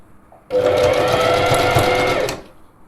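A sewing machine runs a back stitch on an elastic alteration, giving one steady whirring burst of about two seconds that starts and stops abruptly against a quiet room.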